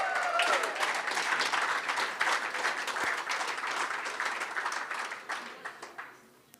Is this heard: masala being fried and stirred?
no